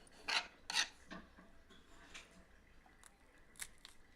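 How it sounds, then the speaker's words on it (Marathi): A knife chops bitter gourd (karela) on a kitchen surface. A handful of quiet, crisp cutting and scraping strokes come at irregular intervals, close up, with no talk. "कारला आपण आता चिरून घ्यायचा आहे."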